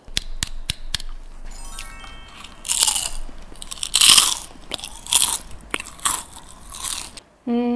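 A few sharp clicks, then loud, close crunching and chewing of cheese-flavored seaweed rice crisps in quick bursts. A voice briefly starts at the very end.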